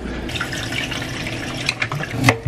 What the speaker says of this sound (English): I always wash my vegetables with this organic spray